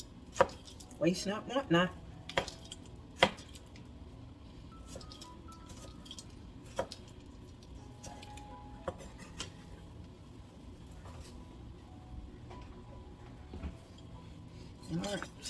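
Fresh tomatoes being sliced with a knife on a board, a cluster of quick cuts early on followed by sparse, faint taps and thuds over a quiet room, with brief talk.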